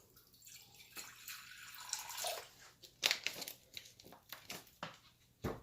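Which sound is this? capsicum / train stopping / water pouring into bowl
water pouring into bowl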